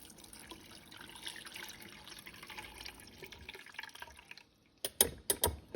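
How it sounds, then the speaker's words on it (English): Water is poured into a cooking pot with garlic for chile relleno broth, a soft steady trickle for several seconds, followed by a few louder splashes and drips near the end. "So now I'm gonna add my water."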